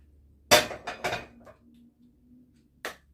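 A metal pot full of hot oil clanks down onto a stovetop in a few sharp knocks, followed by a faint hum and one more clink.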